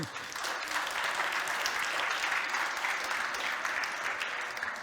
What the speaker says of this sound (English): A big applause for Miloš Sochor.